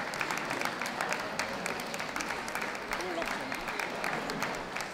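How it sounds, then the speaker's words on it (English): Ringside audience at a dog show applauds as toy group dogs leave the ring, a moderate, even patter of clapping from a crowd at some distance, steady throughout. "Please give a round of applause to those leaving the ring."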